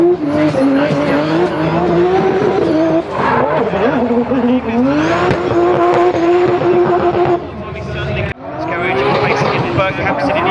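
A 700 brake horsepower drift car at a British Drift Championship round at Rockingham screams loudly and continuously with tyre squeal and engine roar, under steady commentary, with a brief drop near the end before the noise resumes.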